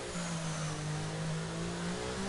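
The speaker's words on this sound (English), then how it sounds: "so squeezing in the throttle" Race car engine revving as the throttle is squeezed in on a low-traction exit, a steady sustained pitch held across the clip with only a slight sag, loud and close with no talk.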